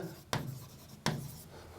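Pen or marker strokes on a board or paper during a NEET coaching lecture, two sharp scratchy strokes close by, separated by quiet room tone.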